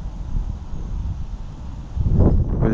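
Wind blows outdoors at the water's edge during fishing with a small rod, a steady low rumbling buffet against the microphone that swells louder near the end.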